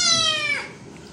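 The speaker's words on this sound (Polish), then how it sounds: "Myjemy kotka szamponikiem" A kitten gives one drawn-out, high meow that falls away while being bathed with Japanese shampoo, close and fairly loud, with no talking over it.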